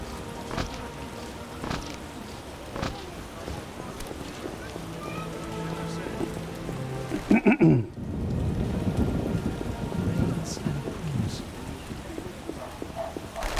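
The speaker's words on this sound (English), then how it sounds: "It rains and it rains." Steady rain falls in The Witcher video game, with a loud thunder crack partway through followed by heavier rolling rain, as characters talk underneath.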